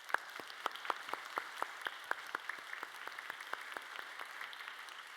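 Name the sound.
church congregation applauding to welcome new members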